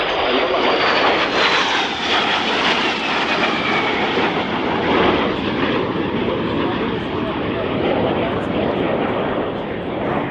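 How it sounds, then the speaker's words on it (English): A loud Eurofighter Typhoon jet roars overhead at the RIAT 2018 air show in a sustained, powerful rush that swells and stays intense throughout. "Get those cameras ready for the Typhoon roll."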